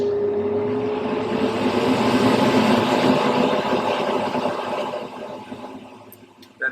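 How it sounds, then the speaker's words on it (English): A spray booth exhaust fan roars loudly with a steady broadband whoosh and low hum, then winds down and fades toward the end with a click. "That fan is also pretty loud, so you can hear that it's on."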